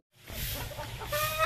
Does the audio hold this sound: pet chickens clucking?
yes